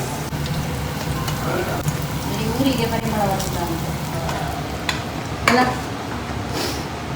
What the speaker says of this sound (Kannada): ಖಾಲಿ ಮೀನು ಮಾತ್ರ ಫ್ರೈ ಫ್ರೈ ಫ್ರೈ